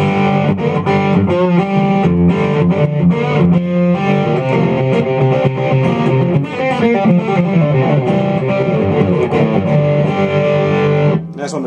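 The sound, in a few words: electric guitar through Amptweaker Tight Drive pedal, heavy distortion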